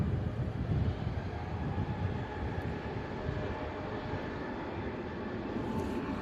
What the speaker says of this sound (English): an A320 Neo EasyJet heading out to Pisa